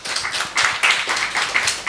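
Audience clapping at a property resale event in Chennai, a short burst of scattered hand claps with an uneven rhythm, moderately loud throughout.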